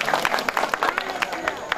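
Audience applause at a village drama performance, a dense crowd clapping with repeated sharp bursts across the whole moment, fairly close and steady, no voices standing out.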